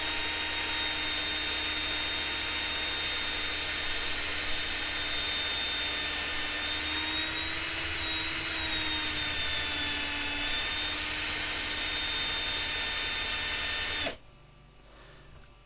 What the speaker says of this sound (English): You want to take that off, and be careful because the drill is hot